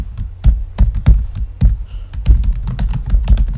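Quick, uneven taps on a computer keyboard, close and fairly loud, with bursts of clustered keystrokes and short pauses between them, no voice over it.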